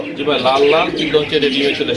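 A pair of red Lahori pigeons coo in low, rolling phrases close by, with the soft warbling calls running steadily under a voice in a busy pigeon market.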